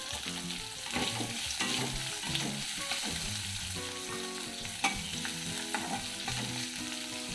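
Onions frying in a pan with curry leaves until light brown, for a brinjal achari dish: a continuous soft crackling sizzle under steady background music, with no speech.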